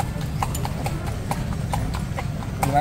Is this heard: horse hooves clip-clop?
yes